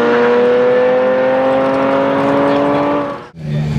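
A car engine revs up hard and holds a high, rising whine as it climbs into VTEC at a race day, loud and close, then cuts off abruptly near the end.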